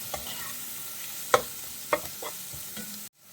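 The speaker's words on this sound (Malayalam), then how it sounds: "ക്യാപ്സിക്കം കൂടി ചേർത്തിട്ട് നന്നായിട്ടൊന്ന് വഴറ്റിയെടുക്കാം" Three-colour capsicum being sautéed for chilli gobi, a steady sizzle punctuated by a few distinct spatula clacks against the pan, close and moderately loud, cutting off abruptly at the end.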